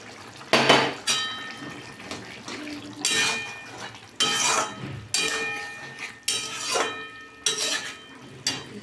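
Water splashes into a steel bowl holding ground mustard and poppy seed paste in a home kitchen, with loud metallic clinks and scrapes in uneven bursts.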